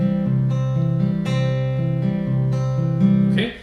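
A steel-string acoustic guitar plays a fingerpicked arpeggio pattern, a steady rolling stream of plucked notes over shifting bass tones, close and clear, fading out at the end.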